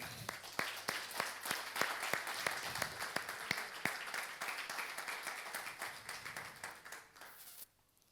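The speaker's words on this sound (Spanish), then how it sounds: "¿Le damos un aplauso al Señor?" A church congregation claps during a sermon, sharp hand claps landing in a steady, even rhythm that fills the room, then cuts off abruptly near the end.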